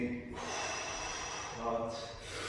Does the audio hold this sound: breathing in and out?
yes